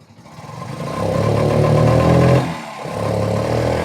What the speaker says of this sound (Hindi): अभी मैं इसमें रेस देता हूँ।